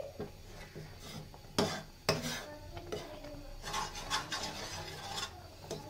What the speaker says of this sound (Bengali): এখন আমি ভালো করে নেড়ে চেড়ে গুঁড়ো দুধটা মিশিয়ে দিচ্ছি